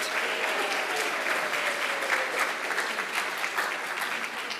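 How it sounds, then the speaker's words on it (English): A crowd at an evening awards ceremony for rising-star companies in New Hampshire gives a round of applause, a continuous wash of many hands clapping at a steady, moderate level without any voices. "let's give another round of applause to all of our fantastic companies here in the Granite State"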